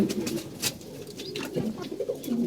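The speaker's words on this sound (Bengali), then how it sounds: "আর যে আমাদের কবুতর খাবার খেতেছে" Pigeons coo steadily at close range while feeding, soft overlapping throaty calls repeating with some scattered clicks and shuffling around them.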